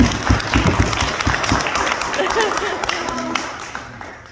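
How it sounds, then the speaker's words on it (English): An audience at a celebration-of-life memorial gives a round of applause. The clapping is dense at first, then fades over a few seconds, with voices talking through it. "And yes, round of applause."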